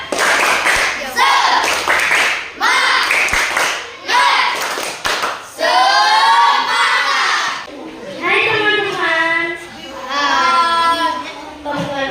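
A group of children in a classroom claps out a cheer rhythm in sharp bursts, then breaks into loud shouted and chanted voices together, energetic and close.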